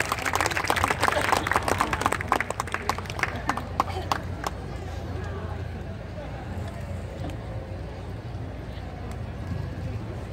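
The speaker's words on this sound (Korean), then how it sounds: "박수 크게 부탁드리겠습니다" An audience applauds loudly with sharp, rapid claps, then the clapping thins and fades into a softer crowd murmur with some voices over the second half.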